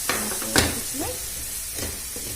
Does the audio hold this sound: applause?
no